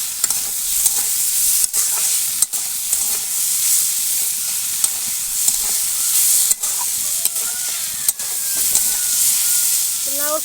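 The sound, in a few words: frying and stirring bottle gourd peels with onion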